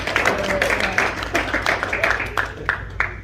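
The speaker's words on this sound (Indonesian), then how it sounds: "Tepuk tangan semuanya dulu." Audience clapping hands together during a sermon gathering, a dense, steady patter of applause spread through the room for a few seconds with some louder individual claps standing out.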